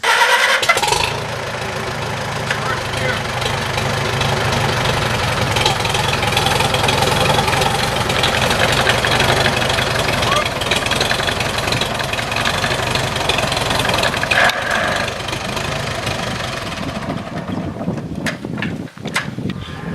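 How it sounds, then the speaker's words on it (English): A 1948 Farmall H tractor engine idles with a steady, throbbing chug, loud and close, before cutting out near the end. "So John James, I understand you decorated this tractor, this 1948 Farmall H."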